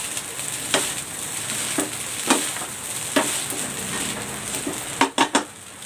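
Chinese sausage fried rice with egg and spring onion sizzles steadily in a hot pan while a spatula scrapes and stirs at regular intervals, ending in a quick cluster of metallic clanks.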